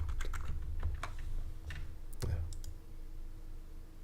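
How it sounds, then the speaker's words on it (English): Keys clatter on a computer keyboard in bursts of quick close taps, busier at the start and thinning out later, over a faint steady background hum with no speech. "Let me just type it, see what happens."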